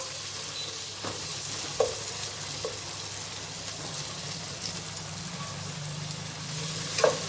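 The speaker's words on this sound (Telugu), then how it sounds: "ఇందులో టమాటా ముక్కలు వేసేసుకుందాము ఇవి కూడా కొద్దిసేపు ఫ్రై అవనిద్దాం" Tomato pieces frying with garlic paste in a pan for egg biryani, a continuous sizzle with occasional spoon scrapes and taps as it is stirred, a faint vehicle reversing beep in the background.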